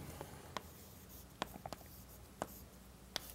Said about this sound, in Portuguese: Vou escrever isso.